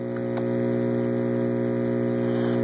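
A variable-speed air pump drives a T-line airlift in a window-farm aquaponics rig, giving a loud, steady electrical hum with even harmonics and faint bubbling ticks, running alone without a break.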